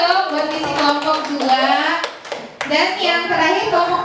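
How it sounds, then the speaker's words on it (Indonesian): Group applause for a presentation in a classroom or workshop setting, several hands clapping briefly in a burst mixed with lively talk and children's voices. "Tepuk tangan dong buat visi kelompok 2"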